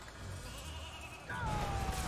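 A sheep bleats in the Skylanders video game beside the Air Geargolem, one drawn-out bleat rising over game effects and a low rumble that grows louder partway through.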